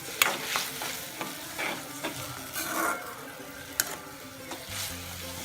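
Steady frying sizzle of onions and green chillies being sautéed, with scattered clinks and scrapes of stirring in a pan, close and moderately loud, no talking.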